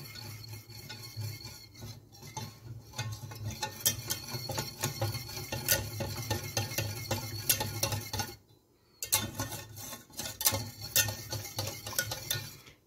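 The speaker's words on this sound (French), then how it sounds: "avec un fouet, vous allez remuer pour qu'elle fonde dedans" A whisk beats gelatin into cherry juice for a cherry mirror glaze, clinking and ticking rapidly against the bowl in a close, busy rhythm that stops briefly before resuming.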